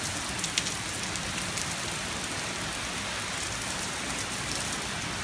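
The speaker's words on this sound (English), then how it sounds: "Pouring out, big time rain." Heavy rain pours down and blows sideways in a windy outdoor storm, a loud, dense, unbroken hiss that fills the whole stretch with no pauses and no one talking.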